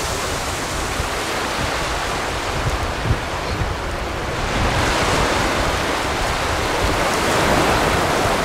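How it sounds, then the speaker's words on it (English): Ocean waves roll onto the beach at Homer Spit, Alaska, a loud continuous wash of surf with wind buffeting the microphone and swelling slightly toward the end; no one speaks. "I love the beach."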